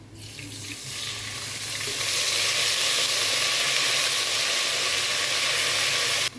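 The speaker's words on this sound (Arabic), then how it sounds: "اخد الثوم اللون الذهبي الخفيف ده، هنزل عليه بربع كوبايه من الخل" A quarter cup of vinegar poured onto lightly golden garlic frying in a pan, a hissing sizzle swelling quickly and holding as a steady loud spatter before cutting off.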